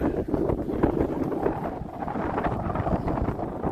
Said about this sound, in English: Very windy today, it's chilly